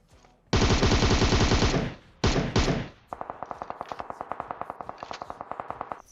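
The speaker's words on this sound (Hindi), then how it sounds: "गोलियों की ऐसी तैसी हो रखी है" Gunfire in the mobile game PUBG Mobile: a long burst of rapid automatic shots, two shorter bursts, then a steady run of evenly spaced single shots, all loud and close.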